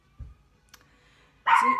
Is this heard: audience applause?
no